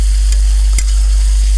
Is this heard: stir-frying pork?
yes